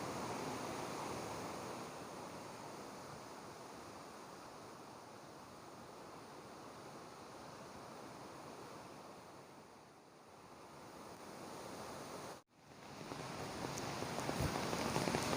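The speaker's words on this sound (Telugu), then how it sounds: "చూసారు కదండి, ఇదేనండి కూర్గ్ వాటర్ ఫాల్స్. దీన్ని అబ్బీ వాటర్ ఫాల్స్ అని కూడా అంటారు" Abbey Falls, a waterfall near Madikeri in Coorg, Karnataka, on an overcast day: a continuous broad roar of rushing, falling water with wind buffeting the microphone and no voices.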